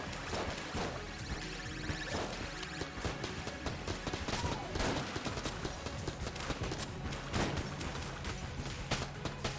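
Rapid bursts of gunfire from the bullet-hell dungeon shooter Enter the Gungeon rattle almost continuously alongside game music and clanking effects, steady and dense with sharp transients throughout.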